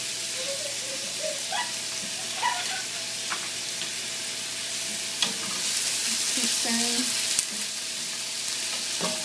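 Garlic fries in a pan with a little salt, giving a steady close sizzle and crackle that swells in the second half, with occasional clinks of a utensil stirring and no voices.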